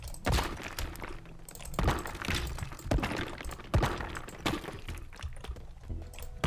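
Structures break apart and collapse in the voxel destruction game Teardown, with a dense run of thuds, cracks and crumbling debris in irregular bursts, at moderate loudness and without speech.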